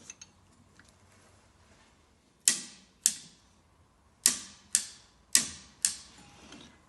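A torque wrench set to 15 foot-pounds clicks as bolts are tightened on a VW air-cooled engine build, giving six sharp, close metallic clicks in pairs and singles over a quiet workshop background.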